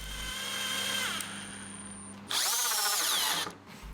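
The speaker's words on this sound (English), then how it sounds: "first I drill some pilot holes, screws in, get some glue applied, and then the screws driven into place" A power drill whirs in two short bursts, drilling a pilot hole and then driving a screw into pallet wood, the second louder and higher-pitched, with a brief pause between.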